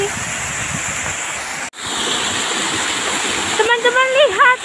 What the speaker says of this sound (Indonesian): Wah, ada air terjun ini. Airnya jernih sekali.